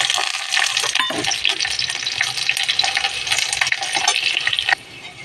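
Dried red chillies and garlic dropped into hot mustard oil for a white pat leaf stir-fry, a loud close hissing sizzle that runs steadily, then cuts off abruptly near the end.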